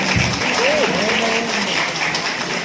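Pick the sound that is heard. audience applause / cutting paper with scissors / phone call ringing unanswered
audience applause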